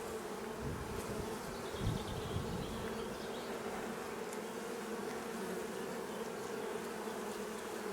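Bees buzz steadily around an opened nucleus hive full of honey. The soft, continuous hum stays close and even, with occasional individual bees passing nearer.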